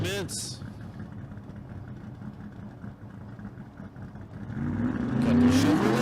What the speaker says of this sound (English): The burnouts commence.